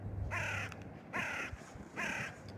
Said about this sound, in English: Like that bird right now.